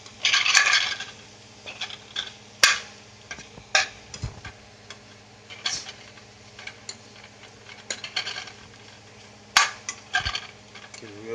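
Chicken thigh and sirloin steak stirred in a pan with vegetables for egg foo young, irregular clinks and scrapes of a utensil against metal over a faint steady sizzle.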